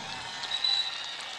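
Audience applause at a kabaddi tournament in Ratia, Haryana: steady, dense clapping from a crowd, held at an even level throughout with a slight swell in the middle.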